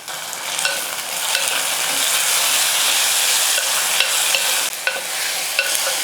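Onion and tomato sautéing in hot oil in a pan: a loud, continuous close sizzle with occasional soft scraping stirs, alone without talk.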